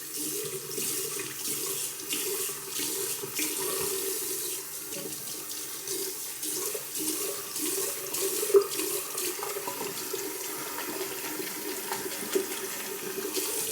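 Cold water runs steadily from a tap in a continuous splashing hiss, close by and fairly quiet, with a couple of small clinks partway through, during wet shaving prep.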